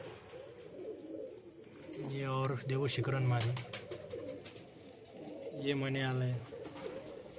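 Large fancy pigeons in a loft in Karanja Lad, Vidarbha, give two deep, rolling coos close by, each lasting about a second, while someone talks through and between them.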